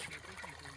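Irrigation water trickles faintly along a farm field planted with garlic and cumin, a soft, steady, brief dribble.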